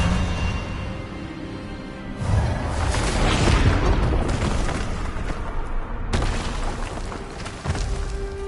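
A spell blast from a Hogwarts wizarding video game erupts as a booming, whooshing burst that swells and holds for several seconds, with a second sharp impact near the end, loud and close with no talk.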